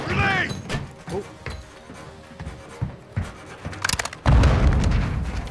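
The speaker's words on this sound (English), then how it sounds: "Grenade!" A grenade goes off in the Call of Duty: Modern Warfare II campaign, a loud, close, heavy blast late in the clip, preceded by gunfire, shouts and chatter from the game.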